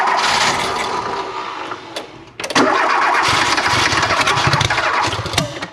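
A Volvo 340 car engine cranks, briefly dips, then catches and roars into a loud, steady run close by, with no talk over it.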